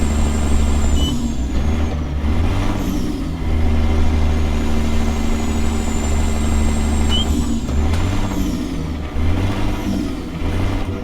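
A Peterbilt 359 hauling a B-double drop trailer in American Truck Simulator, its diesel engine droning loud and close, with revs dipping and rising through a gear shift around the eighth second and a faint air hiss.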